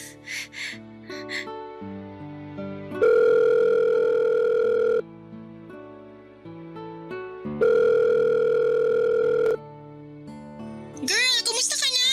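A mobile phone sounds a steady dial tone in two long sustained bursts, each about two seconds, with short tonal beeps and faint voices or music around them before a brief burst of chatter at the end.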